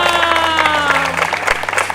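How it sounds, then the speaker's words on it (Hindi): A crowd applauds at a village election rally in Rajasthan, the clapping steady and dense for about two seconds, mixed with sustained tonal sounds that could be music. "तालियां!"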